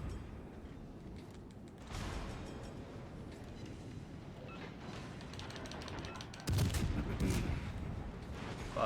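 Naval cannon fire and shell impacts from a cruiser battle in World of Warships Legends, heavy booms and rumbling over a constant battle din that grows louder toward the end.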